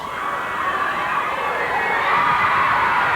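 A large wrestling crowd at the Montgomery Civic Center cheers and shouts in a loud, continuous roar that holds steady throughout.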